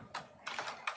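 Brief bursts of clicky keystrokes on a computer keyboard, a few quick taps close up with no voices.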